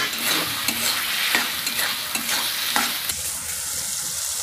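Fried potatoes stirred into sizzling cooked-down spice masala with cumin powder and salt, for an egg and masoor dal dish; rhythmic scraping strokes of a spatula repeat over a continuous close frying hiss.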